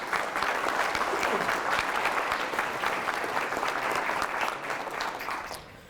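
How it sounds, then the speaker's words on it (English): Sustained audience applause at a chamber of commerce breakfast with the county executive, dense steady clapping that fades out at the end. "Please give them a round of applause."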